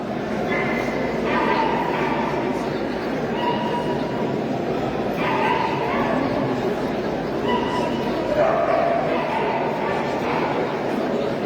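Dogs bark, yip and whimper at a terrier show in an indoor hall, scattered bursts rising over a constant crowd murmur and nearby talk.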